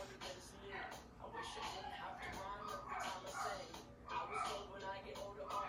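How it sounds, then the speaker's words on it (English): Dogs bark and yip in the background, somewhat muffled, under ongoing room noise and a person talking nearby. "I know y'all can hear my dogs in"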